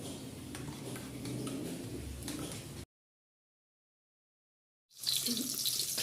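Thin stream of tap water running into a basin while clothes are being washed by hand, a steady close splashing hiss that cuts out abruptly for about two seconds and then resumes.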